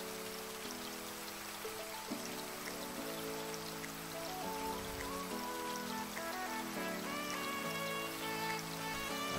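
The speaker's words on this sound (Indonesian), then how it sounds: "Hujannya kapan berhenti sih?" Steady rain falling near Maldives waters during a raft tour, a dense, even patter that runs the whole time under layered melodic tones, with no voices.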